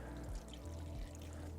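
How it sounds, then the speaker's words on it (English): Water dumped into a silicone toiletry pouch (Tooletries Koby Lite dopp kit), a close, steady pouring splash lasting the whole short moment with no talking. "I'm just gonna dump the water in there."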